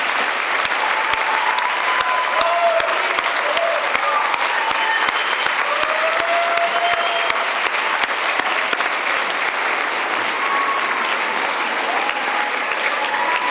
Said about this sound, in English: Could we have all the teachers stand again and give them another round of applause?